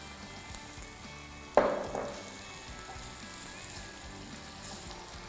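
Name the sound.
onions and garlic frying in a pan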